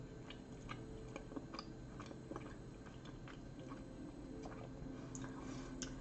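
Chewing on food at close range during a casual painting session, a soft, steady run of moist mouth sounds and small crunches over a low background hum, fairly faint.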